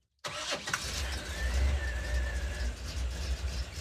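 A K20 truck engine cranks and catches abruptly, then settles into a steady, rumbling idle that holds close and clear with no talk over it.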